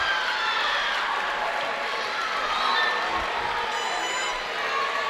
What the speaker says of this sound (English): now the crowd's getting to their feet and cheering